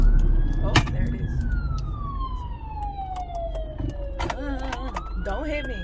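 A police car siren wails and sweeps in pitch close by on a road, rising and falling over a continuous rumble of car traffic.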